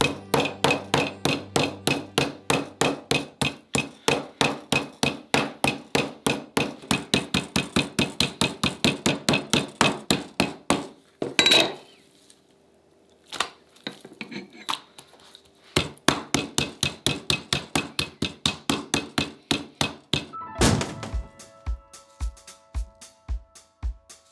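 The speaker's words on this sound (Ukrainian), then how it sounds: "Тепер яловичину гарно відбиваємо молотком." Rapid, steady pounding of a meat mallet on raw beef, many sharp thuds in quick rhythm, a short pause, then more strikes and a few slower final blows.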